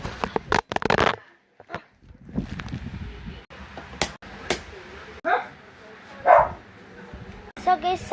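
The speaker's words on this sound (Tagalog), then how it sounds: "sorry maingay kasi naman to yung mga aso namin" Dogs yap and bark intermittently close by in sharp short bursts, mixed with rustling and handling noises, while a person talks at times.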